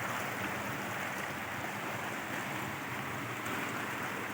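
A waterfall on a 15-hectare farm property in Laguna makes a steady, soft rushing of water with no breaks and no voices.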